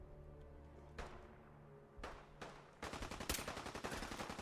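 Gunfire in Fallout 4: a few separate loud shots spaced about a second apart, then a rapid automatic burst of sharp repeated cracks. The shooting sounds close, and nobody speaks.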